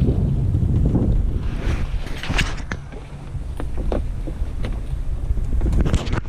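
Wind on a sailboat running downwind off the coast between Banyuls and Cap Creus, steady and fairly strong with a slight sea, a broad continuous rush buffeting the microphone, with some water wash and faint knocks.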